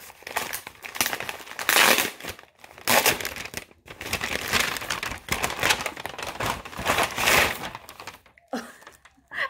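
A plastic priority mail envelope being opened and unpacked, with loud bursts of crinkling and rustling in irregular waves close by, broken by short pauses.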